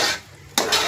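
A spoon scrapes and clatters against a cooking pot as meat is stirred in oil, two quick close bursts of metal-on-pot noise.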